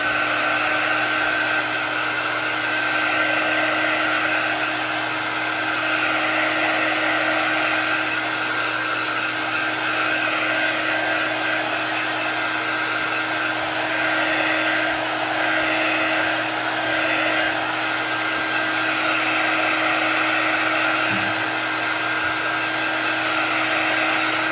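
A handheld blow dryer runs steadily for the whole stretch, drying chalk paste on a Halloween-themed Chalk Couture craft project; the continuous airy whir stays close and even, with no talk.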